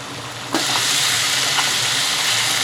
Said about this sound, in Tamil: இஞ்சி பூண்டு வதக்கிட்டு தக்காளி ஆட் பண்ணிக்கோங்க மீடியம் ஹீட்டில் வச்சு